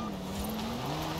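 A Land Rover in Forza Horizon 4 races flat out, its engine droning at a steady high pitch that dips slightly, with tyre noise over a short continuous burst.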